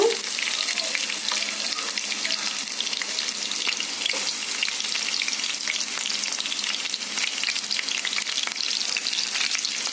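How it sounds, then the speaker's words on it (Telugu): Chopped onions sizzle steadily in hot oil with lentils, a continuous bright frying hiss for a Telugu ivy gourd curry, close and loud with no talk. "ఆయిల్ వేడయ్యాక మనం కట్ చేసి పెట్టుకున్న ఉల్లిపాయ ముక్కలు వేసుకుందాము"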